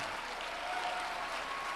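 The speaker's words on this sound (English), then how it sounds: "Come on, clap your hands like we're flowing here." Congregation in a church service clapping their hands in a sustained, even roar of applause, loud and continuous throughout with no voices standing out.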